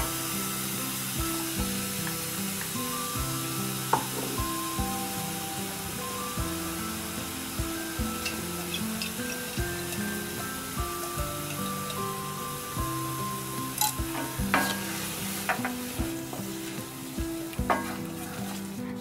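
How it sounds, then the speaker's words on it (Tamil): Banana stem kootu stirred in a pan, a steady sizzle with scraping spoon strokes and occasional clinks, close and continuous with soft tonal music underneath. "நல்லா கலந்து விட்டுக்கோங்க."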